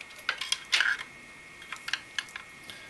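Small, sharp plastic clicks as a water-cooling pump is seated into its retaining ring, a few quiet close taps and snaps in an otherwise still room.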